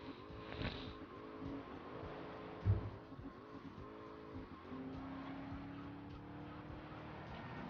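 Car driving in GTA Vice City, engine revving and shifting near and loud, with a brief tire squeal and a thud partway through, then steady engine drone.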